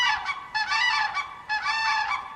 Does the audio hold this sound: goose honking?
yes